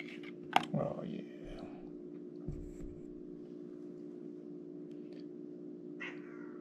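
A cat gives a short meow or two near the start, close and brief, over a steady mechanical hum, followed by faint handling clicks.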